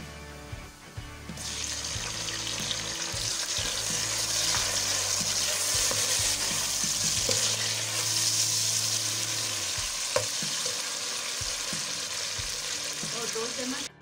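Onions sizzling in a pan for a mixed vegetable curry as tomatoes are tipped in, a steady close frying hiss with occasional stirring clatter and a low background hum.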